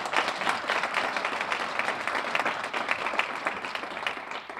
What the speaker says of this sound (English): let's give a round of applause for the Mayor Foundation to host this program